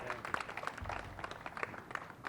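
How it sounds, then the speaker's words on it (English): Audience applause at a Pakistan flag-raising ceremony: light, scattered clapping from a modest crowd, faint and somewhat distant, with a brief low thump partway through. "So please give a round of applause to Supervisor."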